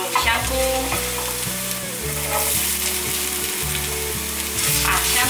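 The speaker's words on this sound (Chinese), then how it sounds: "把香菇炒香" Shiitake mushrooms are stir-fried in a pan after ginger and caramelized sugar for a vegan winter melon dish, with a loud, steady close sizzle and scraping stir strokes under background music.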